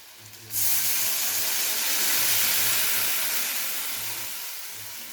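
Water poured into fried radish in a hot pan for Bengali shol mulo, erupting into a loud, sustained steaming hiss that slowly fades over several seconds.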